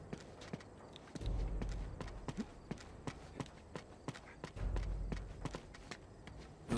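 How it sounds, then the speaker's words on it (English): Horse hooves clip-clop in the Uncharted video game as sharp, rhythmic hoofbeats ring out at a steady trot, with low rumbling swells running under them at times. "Now, all we need is a horse."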